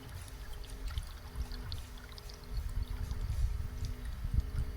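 Antifreeze pours and gurgles steadily out of a radiator drain, a low, close splashing trickle that swells slightly toward the end, with no voices.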